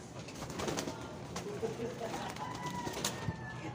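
A racing pigeon near its loft and landing board gives soft coos and flutters at close range, while a person talks quietly in the background.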